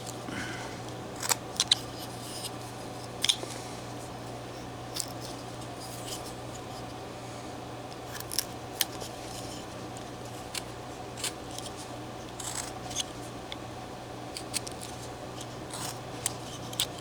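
Hand carving tool cutting into wood, small sharp scraping snicks scattered irregularly over a low steady hum, faint and close, with no talking.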